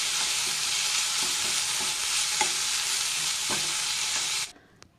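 Onion, capsicum and tomato fry loudly on a tawa for pulao, a dense steady sizzle broken by a few sharp stirring scrapes, cutting off abruptly near the end.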